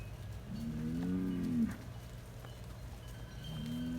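Cattle in a pen moo, one long, low call near the middle and another starting at the end, over a steady low farmyard hum with no talk.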